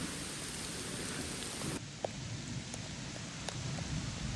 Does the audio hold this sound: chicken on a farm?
no